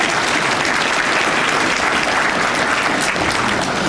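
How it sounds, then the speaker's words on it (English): Audience at the 2015 Florida Supreme Court Historical Society annual dinner applauding steadily and loudly in a dense, continuous wash of clapping throughout, with no voices standing out. "former Justice Major Harding, if you clap that much for each one, we're never going to get out of it"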